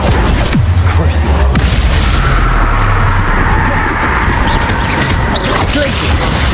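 A Crucio curse spell cast in Hogwarts Legacy erupts in a loud, sustained crackling boom with a heavy low rumble, filling the mix with dense magical impact noise.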